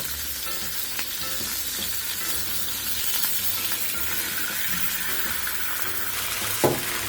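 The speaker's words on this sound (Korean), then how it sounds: "와인, 와인 넣어줄게요." Croaker fish sizzles hard in a hot pan as wine is poured in while cooking at home, producing a steady, loud crackling fry with no pauses and one brief sharp spike near the end.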